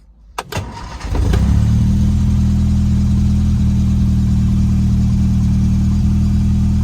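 A Lotus Elan engine with freshly tuned carburettors cranks briefly, catches and settles into a steady, loud, even idle close by.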